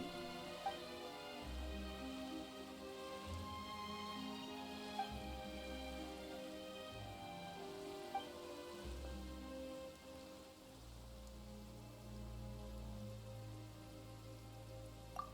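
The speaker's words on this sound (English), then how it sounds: "Why is it raining all of a sudden?" Sudden rain falls on a surface as a soft steady patter beneath a calm tonal musical backdrop, with a few faint isolated drops standing out.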